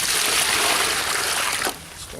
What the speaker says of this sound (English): I put the water in.